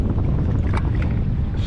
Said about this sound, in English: Chilly wind blow. And got me so cold.